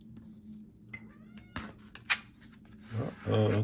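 A pet cat near the microphone meows for a treat, giving a couple of rising, wavering cries, the last loudest, amid light rustling and a brief clatter.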